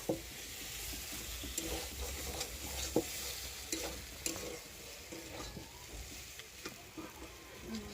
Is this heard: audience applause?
no